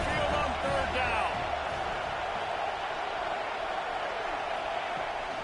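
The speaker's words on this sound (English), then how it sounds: "The Tide crowd rolling noise down onto Saban Field on 3rd down." In College Football 26, Alabama's home crowd at Saban Field roars on 3rd down against Mississippi State, a dense, steady wall of noise that holds at the same level throughout, with no talk over it.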